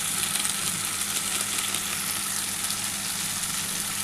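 Mutton sizzles steadily in a pan with garam masala powder, a dense, even frying hiss that holds close and constant throughout, with no voices.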